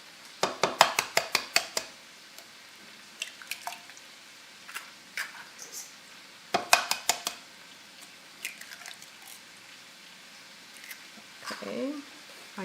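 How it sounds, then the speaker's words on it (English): Three eggs are cracked into a cup for Bavarian bread dumplings, heard as clusters of sharp close taps and clinks with small drips and wet squishes between them, and a voice briefly in the background. "I will now take 3 eggs and just add them"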